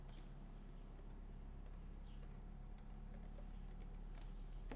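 Someone types on a computer keyboard that is not yet repaired during an informatics lesson. The clicks are faint, scattered taps over a steady background hum, with no talking.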